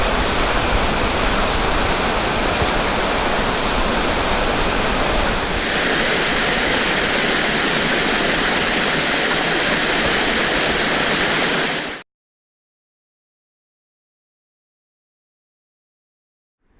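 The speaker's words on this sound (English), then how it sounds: "there were some really cool waterfalls along the way" A waterfall along the Appalachian Trail pours as a loud, continuous broadband rush that shifts slightly in tone midway, then cuts to silence.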